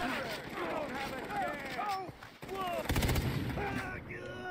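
A few bursts of automatic gunfire in the video game Far Cry 3 come through under nearly constant talking, with a denser volley about two-thirds of the way in.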